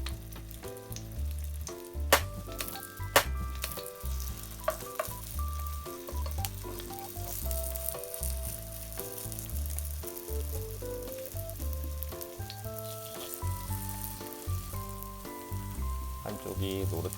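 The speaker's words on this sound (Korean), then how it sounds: "빚어놓은 반죽을 넣고 중불에서 노릇하게 빚습니다." Sweet pumpkin jeon batter frying in four tablespoons of cooking oil in a hot pan over medium heat, a continuous crackling sizzle with scattered pops and occasional utensil taps, heard up close over a low background hum.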